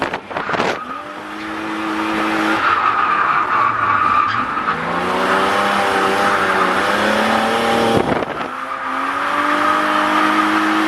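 A BMW E36 drifting at Grange track, tires squealing in long sustained howls while the engine revs and wavers through the slide, loud and close, with a brief burst of noise near the end.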